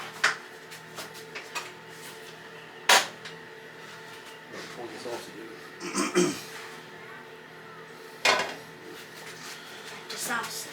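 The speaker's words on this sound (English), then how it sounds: "We'll put the sausage in the pan. We just want to brown it." Sausage goes into a pan to brown for country sausage gravy. A few sharp clanks of metal cookware and utensils sound close, with soft shuffling handling noise between them and a low sizzle.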